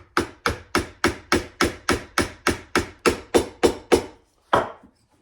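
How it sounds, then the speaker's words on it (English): A marking knife blade with a rectangular tang is driven onto its round-holed handle by about fifteen sharp, evenly spaced hammer blows, close and loud, with a short pause before one final strike. "I fit the blade by just driving it on"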